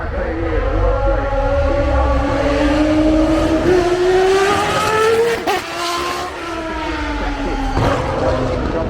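The red number 5 Williams-era race car from Nigel Mansell's championship period running at the Goodwood Festival of Speed, its engine note climbing through revs with a gear change midway, loud and close, with a commentator talking over it.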